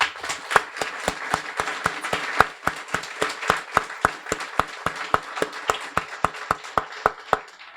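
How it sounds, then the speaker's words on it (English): Applause at a guide dog graduation ceremony comes through as a brisk, regular run of sharp claps, close and distinct, with a softer spread of clapping underneath. "a warm round of applause for you."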